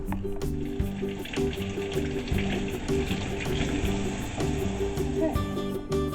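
Dirty chicken eggs being washed under running tap water, a steady close rush and patter of water with a faint tonal hum beneath it.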